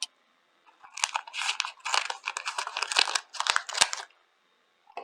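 Scissors snip and crinkle through a plastic bag, a rustling series of crisp cuts and crackles lasting a few seconds, close and fairly loud with no talking.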